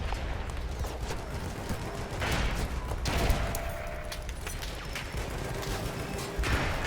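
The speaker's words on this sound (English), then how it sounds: "That's a lot of grenades." Battlefield 1 match audio with dense grenade blasts and rattling gunfire, continuous rumbling bursts and booms layered in a loud chaotic battle.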